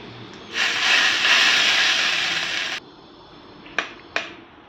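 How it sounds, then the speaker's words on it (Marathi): A loud burst of sizzling hiss lasts about two seconds, then cuts off, followed by two brief sharp sizzles, as cumin, mustard seeds and curry leaves temper in hot oil. "जिरं मोहरी आणि कढीपत्त्याचा वरून मी तडका दिला आहे चटणीला"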